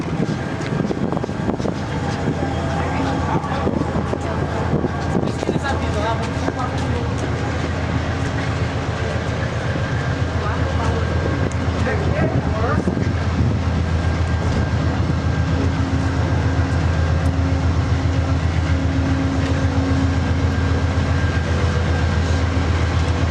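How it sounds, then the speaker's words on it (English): Amtrak's California Zephyr rolls along the rails in the Rocky Mountains, a continuous loud rumble with rhythmic wheel clatter and wind noise, heard from aboard the moving train. "The two engines leading the train are 135 and 147."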